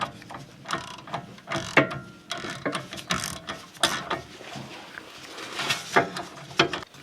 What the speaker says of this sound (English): The lower and upper bolts that hold the caliper on are 19mm, and you've got to reach the wrench around behind the hub carrier in order to get at them.